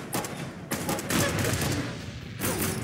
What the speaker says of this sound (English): Oh my God, nuclear grenade.